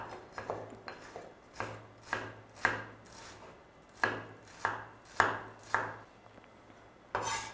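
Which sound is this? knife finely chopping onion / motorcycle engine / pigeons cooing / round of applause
knife finely chopping onion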